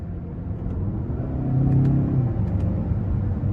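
A 2021 Mazda 6 Carbon Edition accelerating from inside the cabin, a low, subdued engine rumble that swells briefly as the car gains speed, with no talk over it.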